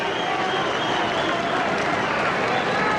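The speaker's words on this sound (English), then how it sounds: "Hernandez going around, getting a round of applause from the fans." Boxing fans in an arena crowd keep up a steady wash of applause and cheering for Angel Hernandez after his fight with Kostya Tszyu, dense and continuous throughout with no single claps standing out.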